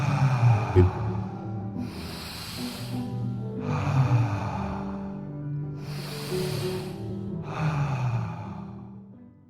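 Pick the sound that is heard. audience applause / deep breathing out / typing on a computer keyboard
deep breathing out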